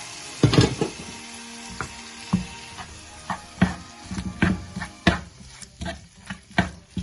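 Tomato sautés in masala for a soybean curry, with a soft background sizzle broken by repeated spoon-against-pan scrapes and knocks at an irregular stirring rhythm, close and alone.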